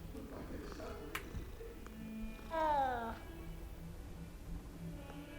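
A cat meows once in the video game Hogwarts Legacy, a short rising call in the middle, heard under someone talking and soft game ambience.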